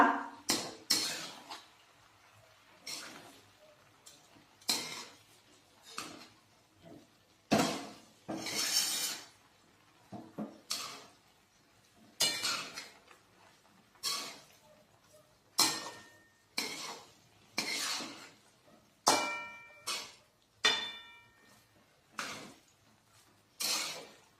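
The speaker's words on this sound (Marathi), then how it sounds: "भात व्यवस्थित मिक्स करूया." Spoon strikes and scrapes repeatedly against a metal pot while biryani rice is mixed, a regular series of sharp clinks and scrapes, close and fairly loud, with no talking.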